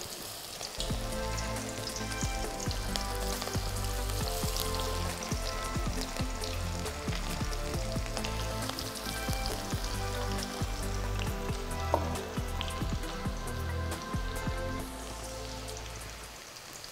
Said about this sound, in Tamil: அடுத்து நீங்கள் எண்ணெயில் போட்டு இதை பொறிச்சு எடுத்துடலாம்